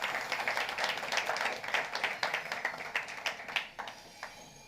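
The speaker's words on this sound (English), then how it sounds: "I would like to ask for a big round of applause for everyone who's been" An audience at a summit hangout claps in a dense patter of many hands, holding steady and then thinning out into a few scattered claps before fading.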